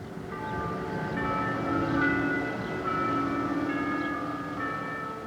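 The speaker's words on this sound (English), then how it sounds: "Bells from Sacred Heart Catholic Church rang out, a symbol of hope" The bells of Sacred Heart Catholic Church in flood-damaged East Grand Forks ring out, steady sustained tolling tones with a low rumbling background, moderately loud and heard from a distance, with no voices.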